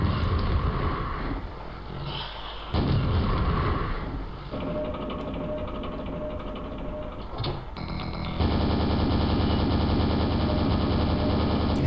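Rocket launcher firing at Scrags in the Quake video game, dense loud mechanical game noise with bursts of firing and explosions, shifting sections of continuous clatter and drone.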